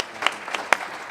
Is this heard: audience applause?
yes